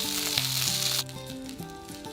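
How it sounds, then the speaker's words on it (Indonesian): Gyoza crackle and sizzle in sesame oil in an uncovered pan, a dense steady hiss of frying close by that drops somewhat in loudness partway through, with a faint tonal hum underneath. "Kemudian masak tanpa penutup sampai gyoza enak dan renyah di bagian bawah."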